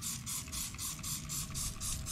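Rapid repeated hissing spray bursts as cleaner is sprayed onto a very dirty lawn mower, about eight quick pumps in a steady rhythm, close and fairly loud.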